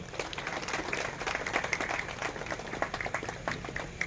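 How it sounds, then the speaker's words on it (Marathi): An audience at a memorial gathering claps in sustained, dense applause, a steady patter of many hands that holds at an even level throughout. "सर्वांनी यांना शुभेच्छा द्यायच्या टाळ्या वाजून"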